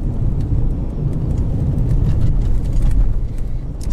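A 2020 Lada Granta with an automatic gearbox drives a rough snowy road in fourth gear at about 1500 rpm and 60 km/h, its low engine drone and road rumble steady and continuous from inside the cabin.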